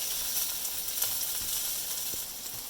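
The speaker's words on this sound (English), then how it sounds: "while our onions and peppers and garlic finish just kind of cooking lightly in that oil we have" Onions, peppers and garlic cook lightly in seasoned oil for a gravy, giving a soft, continuous sizzling hiss with faint crackles throughout.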